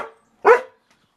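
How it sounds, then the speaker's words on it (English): A single clear bark from a pet dog indoors, set off by another dog barking outside, comes as one loud burst between short quiet gaps. "barking because he can hear another dog barking"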